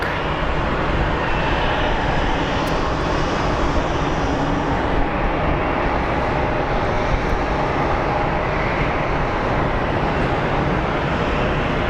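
Airplane at Phoenix Sky Harbor International Airport, a loud, steady broadband jet engine roar that holds for the whole stretch, with no talking.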